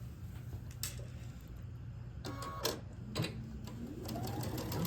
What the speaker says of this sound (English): I'm gonna flip them right sides together and sew them together